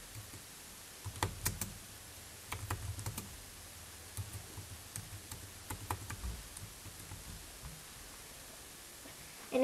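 Soft, quiet clicks of Python code being typed on a computer keyboard, arriving in scattered short bursts with gaps of near silence.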